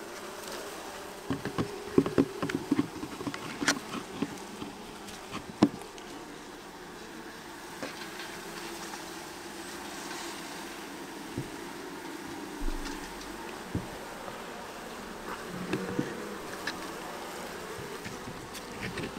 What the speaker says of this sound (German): ich habe jetzt hier ein paar Jungbienen zusammengesackt